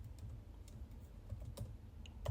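Fingers type code on a computer keyboard in quick, uneven runs of light key clicks, close and fairly quiet, with a few sharper key taps standing out.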